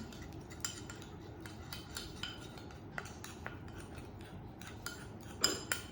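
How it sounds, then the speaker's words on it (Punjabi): Homemade scrub cream ingredients being mixed in a bowl, giving faint, scattered clinks and scrapes of a utensil against the dish over a low steady background, with one slightly louder clatter near the end. "ਇੱਧਰ ਆਪਾਂ ਜਿਹੜਾ ਆਪਣਾ ਮਟੀਰੀਅਲ ਲਿਆ ਵਾ ਉਹਨੂੰ ਆਪਾਂ ਮਿਕਸ ਕਰ ਲਾਂਗੇ"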